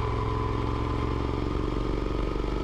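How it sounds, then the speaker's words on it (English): A Moto Guzzi Griso 1200 SE motorcycle is ridden at steady speed, and its engine gives a continuous loud, pulsing drone close up, with no voices. "The bike you see me riding right now is a Moto Guzzi Griso 1200 SE"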